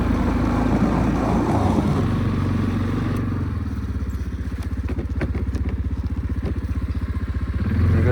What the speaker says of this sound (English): There goes the big plows.